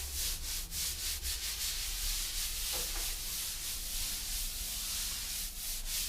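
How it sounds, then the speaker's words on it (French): Tile grout joints are rubbed and shaped with steady, rhythmic scraping strokes, a close, fairly loud rasping texture repeating for about six seconds with no talk. "on ne frotte pas trop parce qu'on ne veut pas vider le joint, on peut juste le former"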